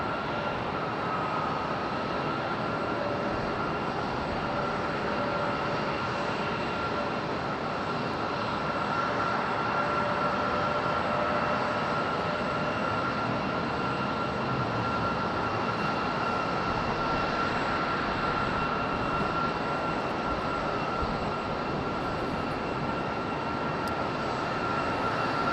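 An airliner's jet engines roar steadily at Raleigh-Durham airport on a moist evening, a sustained, even rumble with a faint whine that holds for the whole stretch, heard from a distance with no talking.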